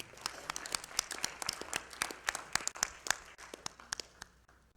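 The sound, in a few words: audience applause at an awards ceremony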